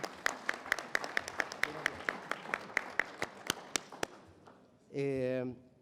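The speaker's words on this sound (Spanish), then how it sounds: "me paso un aplauso para Fernando" Applause for Fernando at a Chilean occupational safety and health policy forum: a run of sharp, separate claps, fairly close and steady, then a brief voice near the end.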